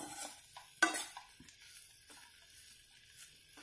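Capsicum rice mixture being stirred as it heats in a pan, with quiet scrapes and a few sharper spoon knocks against the metal over a faint background sizzle, no voices.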